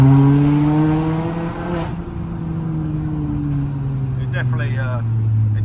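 A Mini Cooper S R53 pulls hard in second gear from just over 30 mph, its engine note climbing steadily, dipping briefly, then rising again, close and loud over constant road noise.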